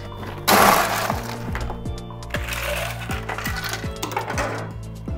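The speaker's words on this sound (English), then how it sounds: "I'm gonna add some ice." Ice cubes tumble into a metal cocktail shaker for a strawberry espresso cocktail, a loud crashing clatter followed by repeated lighter clinks and settling rattles close by.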